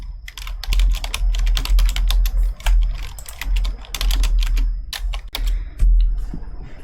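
Rapid, close-up clatter of keys on a computer keyboard in a quiet room, irregular bursts of sharp taps with short pauses, no voices.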